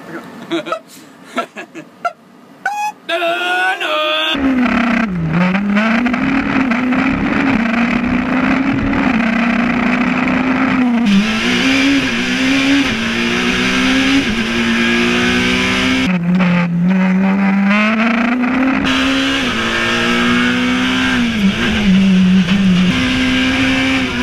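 Rally car racing hard downhill from Strahov at the Prague Rallysprint, a loud close engine revving and shifting up and down continuously after a few short opening noises.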